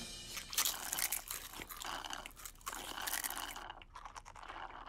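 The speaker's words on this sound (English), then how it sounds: "Hurry, let's get to work while their mouths are busy chewing." In an animated Barbie scene, several people chew snacks like chips, turkey and ham, giving close, crunchy bites and wet chewing in irregular bursts over nearly five seconds.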